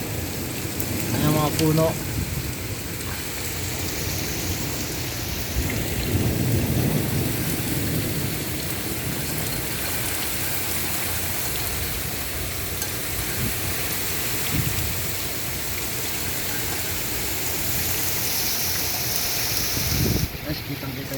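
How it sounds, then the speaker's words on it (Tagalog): Heavy rain pours steadily on a rainy morning in Jeddah, a dense roar with low rumbles of thunder rolling beneath, while someone speaks now and then over the downpour. "lakas ng ulan guys."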